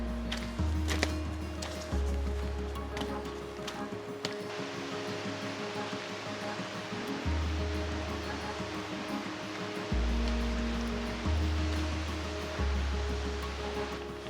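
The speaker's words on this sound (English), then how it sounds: "the sound of the creek in the distance" A creek flows somewhere in the distance among alpine trees before sunrise, a steady broadband wash of water that runs continuously, while a low hum repeatedly switches on and off underneath it.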